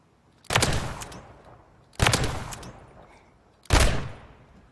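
Three loud, close pistol shots fired on a shooting range in Modern Warfare 3, evenly spaced about one and a half seconds apart, each a sharp crack followed by a rumbling tail, with no voices.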